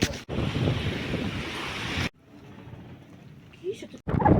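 Storm-driven sea surges against a stone breakwater on the Bulgarian coast: a loud rushing wash of surf for about two seconds, then a quieter lull before the roar swells again.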